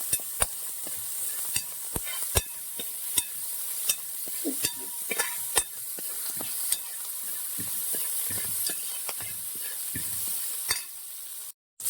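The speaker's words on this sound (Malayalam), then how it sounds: "ഇതിലേക്ക് നമ്മൾ ഇഞ്ചിയും വെളുത്തുള്ളിയും പച്ചമുളകും അരിഞ്ഞത് നന്നായിട്ടൊന്ന് വഴറ്റിയെടുക്കുവാണ്" Chopped ginger, garlic and green chillies sautéed in hot oil for a Kerala wedding-feast mango curry, a steady close sizzle with regular sharp ladle scrapes and taps against the pan, and no talk.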